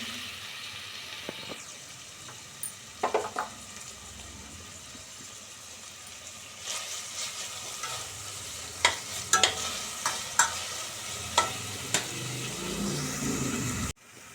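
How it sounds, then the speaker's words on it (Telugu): Onion, green chilli, ginger, curry leaves and tomato frying in hot oil in a kadai: a steady sizzle runs throughout, with occasional sharp pops and spatula scrapes as the mix is stirred. "ఉల్లిపాయ ముక్కలు, పచ్చిమిరపకాయలు, అల్లం ముక్కలు, కరివేపాకు, టమాటా అన్ని నూనెలో వేగుతున్నాయి"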